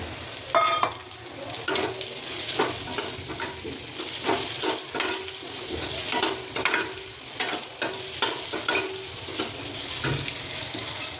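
Chopped cucumber tumbles into garlic frying in oil for a Gujarati-style cucumber sabzi, then a spoon stirs it steadily. A continuous close sizzle carries repeated scraping and clattering strokes.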